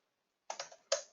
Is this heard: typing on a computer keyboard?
yes